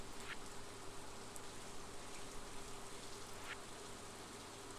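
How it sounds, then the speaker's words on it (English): Rain in the farming video game Stardew Valley makes a soft, steady hiss of falling drops, faint and even throughout with no talk. "Because it's raining."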